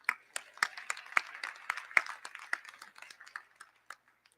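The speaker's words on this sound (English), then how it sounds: "give him a round of applause anyway," Applause from a convocation audience, a few dozen distinct claps fading out over about four seconds, fairly faint and sparse toward the end.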